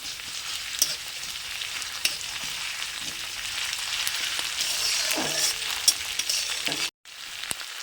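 Ginger garlic paste fries in a pan for a Bengali egg curry, a steady broadband sizzle with occasional sharp clicks of a utensil, nearby and continuous until a brief cut near the end, with no voices.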